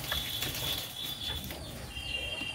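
Pakistani Teddy pigeons flap their wings nearby, short fluttering bursts over a busy background with faint bird chirps.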